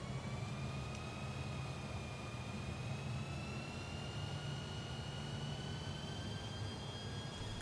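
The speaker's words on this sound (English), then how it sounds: "Let's give the engine some juice and get it rolling here." A Fokker F28 jet in Microsoft Flight Simulator taxis with its engines given some throttle, producing a steady low rumble and a faint whine rising slowly in pitch, quiet and continuous with no talk.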